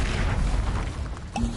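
Incendio fire spell cast in Hogwarts Legacy on PS5, heard as a dense, booming fiery burst that roars steadily and ends with a sharper blast near the close, loud and close with no talking.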